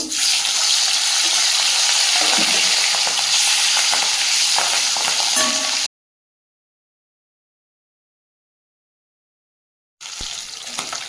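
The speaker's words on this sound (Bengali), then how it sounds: "তেলটা গরম হয়ে গেছে মাছগুলো দিয়ে দেব" Fish, cooked the day before and kept in the fridge, fry in hot oil in a wok with a loud, dense, continuous sizzle that cuts to silence and then resumes for the final second.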